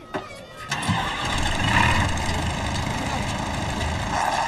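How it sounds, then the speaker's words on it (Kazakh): A tractor engine cranks briefly, catches, and settles into a steady rumbling idle that carries on loud and close to the end. "Құдайым-ай, Дэвид, тракторды оталдыр."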